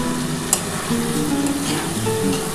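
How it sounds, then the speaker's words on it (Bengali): Onion and capsicum frying together in a pan for dry chili paneer, a loud dense sizzle of hot oil filling the whole clip close up, with a single sharp clink of a utensil and no voices. "পেঁয়াজ আর ক্যাপসিকাম একসাথে দিয়ে দিলাম।"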